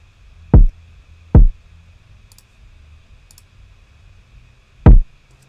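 Three punchy kick drum hits from a drum rack in Ableton Live, played dry without saturation or clipping; two in quick succession, then a pause before the third, each short and booming with a fast decay.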